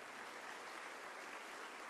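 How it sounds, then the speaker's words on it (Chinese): An audience applauds to welcome Peking opera laodan performer Kang Jing onto a televised Chinese opera stage. The clapping is a soft, steady wash of sound with no voices. "来，掌声欢迎康静。"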